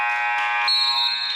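A loud electronic buzzer sounds at a college basketball game between Diablo Valley College and Cosumnes River College to end the half, one sustained harsh tone lasting over a second.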